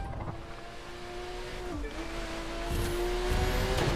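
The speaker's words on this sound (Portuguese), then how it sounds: "Vamos ouvir o roncar do carro." A car engine in The Crew 2 racing video game hums steadily at a distance, its pitch dipping and then rising as it accelerates, fairly quiet throughout.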